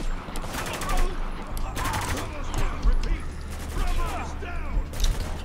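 Gunfire in the war shooter Spec Ops: The Line, several rapid bursts of automatic fire at mid distance with brief gaps, mixed with mechanical clatter and low rumble.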